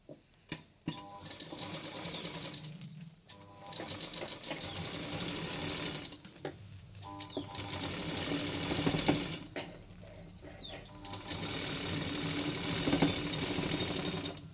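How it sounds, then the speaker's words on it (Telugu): A sewing machine stitches a silk pattu langa jacket in long bursts of rapid, even mechanical rattling, close by, with short pauses where the fabric is turned between runs. "ఇప్పుడు అది ఇట్లా తిప్పేసి దానిపై మనం రౌండ్గా కుట్టేసుకోవాలి"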